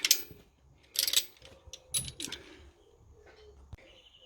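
A ratchet tightens the last front subframe bolt on a Ford Mondeo Mk3 ST220, giving a few short bursts of metallic clicking, close and fairly quiet, with small knocks between them.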